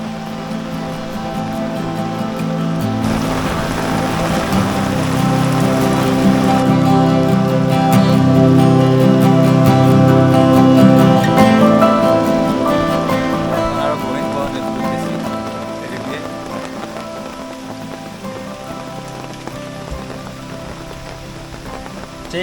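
Heavy rain falls in the Ratargul swamp forest in Sylhet, a dense, continuous hiss of drops on water and leaves that builds and then eases, with voices talking faintly beneath it.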